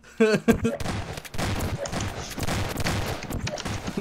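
Shotgun blasts in a Portal multiplayer mod game, several sharp reports in quick succession followed by clattering game noise, with a voice briefly heard at the start.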